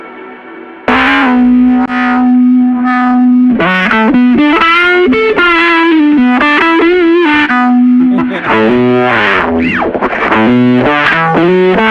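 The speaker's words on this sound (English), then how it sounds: "That fuzz tone with the wah, that's great." A Telecaster electric guitar played through a thick fuzz tone with a wah pedal. Sustained, distorted notes and bends sweep vowel-like, loud and continuous, with no voices.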